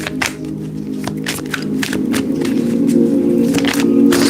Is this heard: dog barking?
no